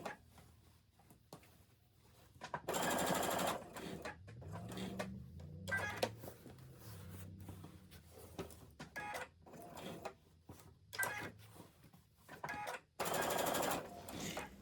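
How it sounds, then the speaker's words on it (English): A sewing machine stitches along the seam of a plain holiday stocking trimmed with cotton fabric, running in loud whirring bursts separated by pauses, close by, with a person speaking softly between runs. "I have now begun stitching on the opposite side of the stocking."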